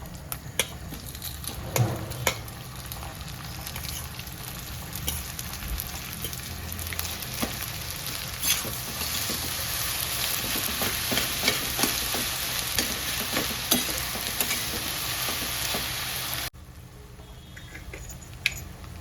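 Cooked wheat lapshi porridge fries in a pan, a continuous close sizzle with repeated scraping and tapping of stirring throughout, then a quieter stretch near the end.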